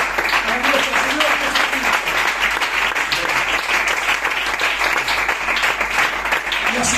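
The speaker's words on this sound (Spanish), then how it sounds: "Fuerte ese aplauso para Dios." A church congregation applauds loudly and steadily during a Bible study, sustained close clapping throughout with a voice faintly audible underneath.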